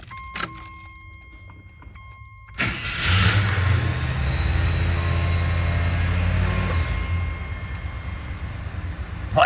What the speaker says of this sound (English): I'm going to go ahead and fire this Jeep up.